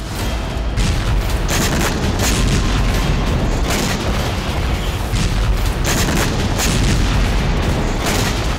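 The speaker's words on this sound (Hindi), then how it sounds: "पुतिन सेना लगातार भीषण बमबारी कर रही है" Grad rocket artillery bombardment on Ukrainian military positions during the Russia–Ukraine war: a dense, continuous roar of blasts and rumbling booms that stays loud and unbroken throughout, with no voices.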